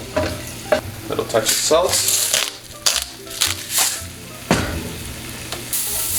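Garlic and pre-cooked shrimp fry in a hot pan with a loud, close sizzle, punctuated by repeated scraping and stirring strokes of a utensil, while someone speaks briefly over it.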